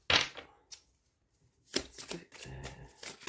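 Tarot cards are shuffled during a general reading, with two close, crisp bursts of riffling separated by a quiet pause and the second bout running longer.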